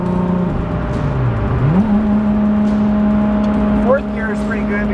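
A 1000+ horsepower right-hand-drive Toyota Supra makes a hard pull, its engine note climbing steadily then jumping to a higher pitch near the end, loud from inside the car with voices talking over it.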